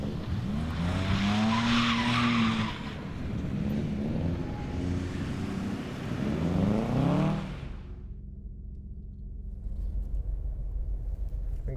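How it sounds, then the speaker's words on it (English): A car slides around an icy winter autocross course at Road America with help from the e-brake, engine revving loudly as tires skid and hiss in long sweeps, then fading to a low idle rumble. "I might as well try to slide around a little more with some convincing from the e-brake."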